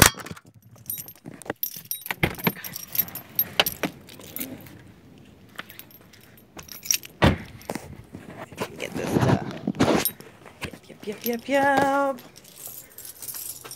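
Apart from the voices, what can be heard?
keys jangling while searching for the right key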